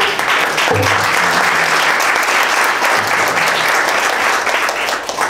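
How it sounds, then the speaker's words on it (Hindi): Enthusiastic audience applause at a Kabir bhajan concert, dense clapping that fills the whole stretch, with a few faint voices mixed in. "नमन करते हैं तालियों से"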